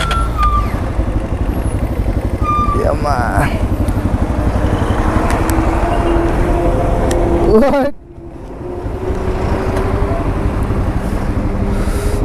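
A dirt bike engine runs steadily, rough and loud up close, with wind buffeting; the noise briefly drops before resuming.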